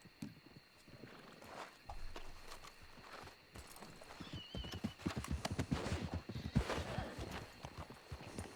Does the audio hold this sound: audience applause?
no